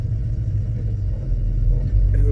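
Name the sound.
LS-swapped Chevy C10 truck engine rumbling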